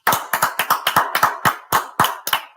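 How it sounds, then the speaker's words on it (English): Audience clapping at the close of a live beer-tasting event: a series of about nine separate bursts of claps in a steady, slightly uneven rhythm, close and fairly loud, with no voices. "Everyone in the place is clapping"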